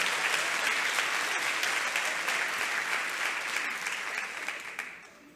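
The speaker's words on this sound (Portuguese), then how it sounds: "Você pode aplaudir ao Senhor um pouquinho mais?" A church congregation breaks into sustained, dense applause during a service, loud and steady throughout before tapering off near the end.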